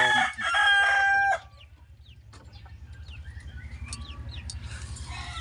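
A chicken clucks and cackles close by, loud at first, then softer repeated clucks over a low steady hum.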